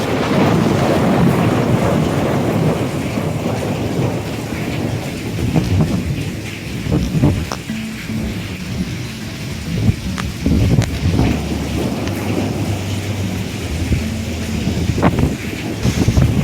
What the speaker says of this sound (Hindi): इतनी तेज बारिश हुई कि छत पर पानी भर गया।